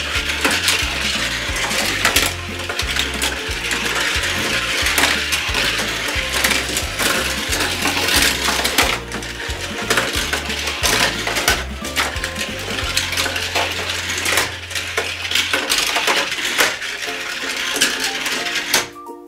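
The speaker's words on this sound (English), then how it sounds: "let's start sending our cars down the track" Hot Wheels toy cars rolling down a plastic track, heard as a steady rattling and clicking run of small wheels and clattering pieces, close and continuous, with a toy jingle playing underneath and no talk.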